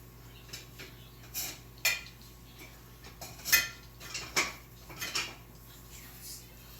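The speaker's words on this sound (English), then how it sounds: "Now let's find some tongs." Kitchen utensils clatter and clink as someone rummages through a drawer or holder for tongs, a series of sharp metallic knocks spread irregularly over several seconds, close and fairly loud.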